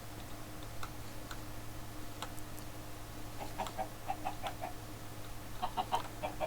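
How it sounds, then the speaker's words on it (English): Chickens cluck in the video game Minecraft, short soft clucks scattered over a steady low hum, sparse at first and then coming more often and a little louder toward the end. "Chickens can fall down forever without getting hurt because they flap their little wings"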